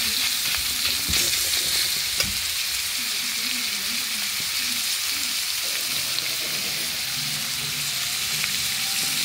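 Onions and chicken fry in a pan for homemade chicken onion rolls, a steady close sizzle and crackle that runs without a break, with no voices.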